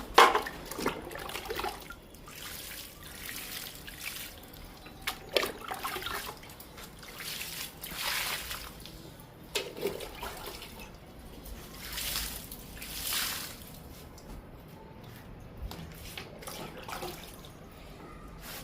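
Liquid fertilizer trickles and splashes onto sun-stressed garden plants in steady dribbling bursts, near and moderately loud, with no talking.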